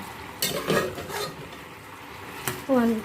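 Cassava (kamoteng kahoy) being stirred in a pot after browning, with a few scraping, clattering strokes and a soft sizzle underneath, close and moderate in level.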